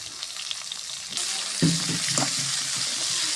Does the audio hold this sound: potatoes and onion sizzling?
yes